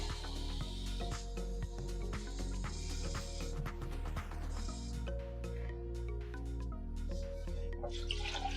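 Water pours and splashes into a pot for rice, heard as a close, continuous trickling fill with dripping and bubbling under a faint background hum.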